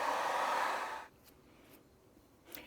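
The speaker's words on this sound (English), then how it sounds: "I use the blow dryer a lot like this anyway, because it moves it where I want it." A handheld blow dryer drying a person's hair, a loud close airy whir for about a second before it cuts off, leaving quiet room tone with a few faint rustles.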